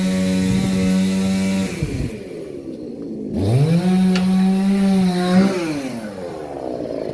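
A chainsaw with debris in the fuel and carburetor sputters and chokes while cutting firewood. Its loud engine dips, cuts out briefly, then revs back up unevenly.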